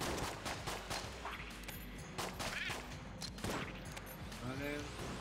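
M16 gunfire in the video game Enter the Gungeon, repeated rapid bursts of shots with game effects, loud and close, with talk over it.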